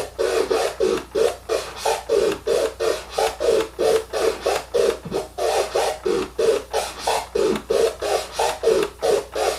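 Rapid, rhythmic crescent flare record scratching on a turntable: short, raspy back-and-forth strokes repeat steadily and closely, with no voices.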